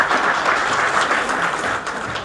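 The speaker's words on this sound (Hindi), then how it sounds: "सबसे पहले तो आप सब लोग अपने लिए तालियां बजाएं।" An audience of electricians at a company event claps for themselves: thick, even applause from a large crowd, loud and unbroken for the short span without any speech.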